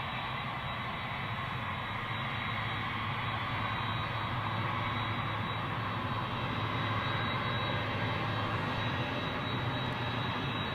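A cargo jet at Memphis airport, heard as a steady, broad, distant roar that holds at a constant level throughout, with no voices.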